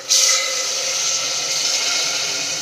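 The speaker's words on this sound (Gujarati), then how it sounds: "તો અહીંયા મેં 1 ગ્લાસ જેટલું પાણી એડ કર્યું છે." Water poured into hot onion gravy in a pan raises a loud, steady hiss that flares sharply at the start and then holds evenly, close and without any voices.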